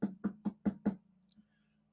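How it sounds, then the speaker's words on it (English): Five quick, evenly spaced knocks on a wooden surface sound close and moderately loud, then a faint final tap in a quiet room. "knock on wood."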